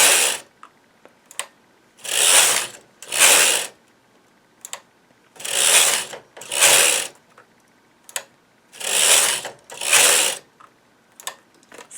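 A knitting machine carriage slides across the bed in loud rasping mechanical passes, about eight strokes in pairs separated by short pauses, with small clicks between them and no talking.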